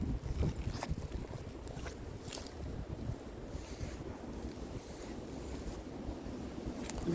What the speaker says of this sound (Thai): ลมแห้งๆลมกำลังแรง